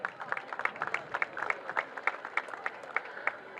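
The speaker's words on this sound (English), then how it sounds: "Let's give yourself a round of applause." Light, scattered clapping from a small outdoor gathering at a morning coffee hour event at Boston City Hall, individual claps spaced unevenly and fairly soft.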